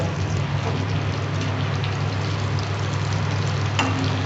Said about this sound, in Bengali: বড়াগুলো আমার প্রায় ভাজা হয়ে গেছে, 2 পিঠি ভালো করে ভাজা হয়ে গেছে।